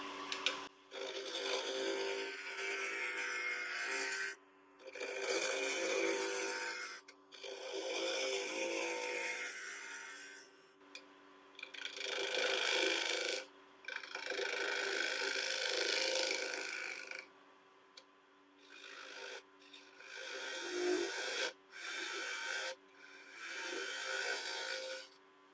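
Gouge cutting a live edge cherry bowl on a lathe spinning around 1300 RPM, a series of rough, close cutting passes in bursts of a few seconds separated by short pauses, fairly quiet overall.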